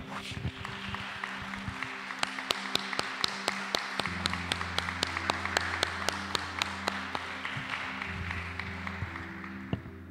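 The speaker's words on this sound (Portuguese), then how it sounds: "Vamos aplaudir o Senhor, amém?" A church congregation applauds during a Portuguese worship service, a steady wash of many hands clapping with sharper individual claps standing out in a loose rhythm over a sustained organ or keyboard drone.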